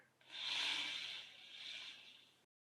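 A single long exhale through one nostril during a breathing exercise, a soft airy rushing hiss that swells, eases briefly, then fades out over about two seconds, close and quiet.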